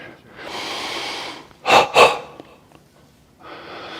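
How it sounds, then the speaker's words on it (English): Heavy, close breathing of someone catching their breath after karate practice of Sanchin kata: a long, rushing breath, two sharp snorting bursts in quick succession, then another steady breath beginning, with no talking. "This is me just getting my breath together again"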